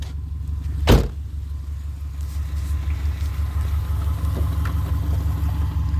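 A used 2005 Subaru Forester engine idles steadily and a little loud, a constant low rumble with one brief sharp burst near the start.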